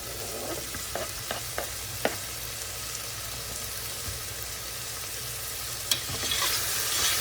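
Chopped carrot and bean pieces frying in a pan, a steady close sizzle broken by a few sharp clicks and scrapes of stirring, heard without talk.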